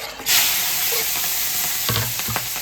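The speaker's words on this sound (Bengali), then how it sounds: "এই দেখো বন্ধুরা, কালো জিরে দিয়ে দিলাম।" Nigella seeds drop into hot oil in a pan with a burst of bright, loud sizzling that goes on steadily, with a few soft clinks of stirring near the end.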